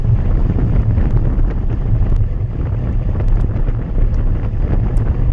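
A strong headwind roars across the microphone of a cyclist racing in a road race, a loud, steady, buffeting rush with no speech.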